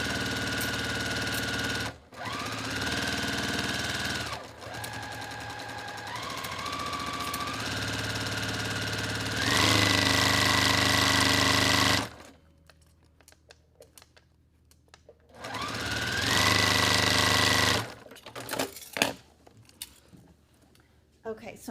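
A sewing machine stitches a quilt block in several loud bursts of rapid mechanical whirring, stopping and restarting with short pauses between runs.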